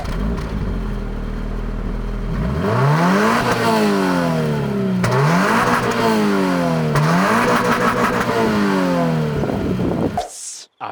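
A 2023 Subaru BRZ engine revs up and down repeatedly, the exhaust rising and falling in pitch in steady waves, loud and close before cutting off abruptly.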